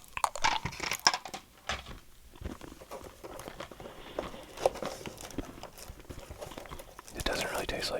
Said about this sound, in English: We'll get some chewing gum here.